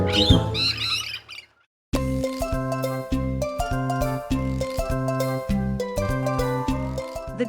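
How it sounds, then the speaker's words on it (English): A galah, the pink and grey Australian cockatoo, gives a burst of harsh squawking calls for about a second and a half, then falls silent before music begins. "The galah is an unmistakable cockatoo native to Australia."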